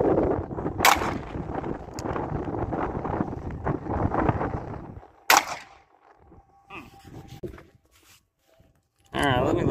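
Sharp gunshots from a Rohm .38 revolver at an outdoor range: two loud cracks several seconds apart, with steady wind noise and some rustling between them.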